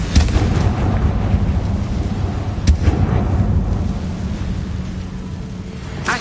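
Confringo, the fire-blast spell in Hogwarts Legacy, goes off as booming, rumbling explosions over a constant low roar. Two sharp, loud blasts come early and midway, then a softer rumble fades toward the end.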